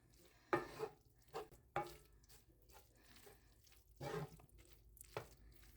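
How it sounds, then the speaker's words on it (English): Flour and tomato paste being stirred into a shepherd's pie sauce, giving faint, soft scraping and squelching strokes in a few separate bursts, close by with no talk. "just mix it until it's well combined"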